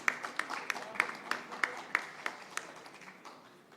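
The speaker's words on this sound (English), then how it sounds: "Let's have a huge round of applause, ladies and gentlemen, for Shri Ramakrishna Singh" At a mobility industry session, the audience applauds a speaker being introduced, a thin spread of sharp, separate claps from a fairly small crowd, with one near, crisp clapper standing out and the sound tapering off at the end.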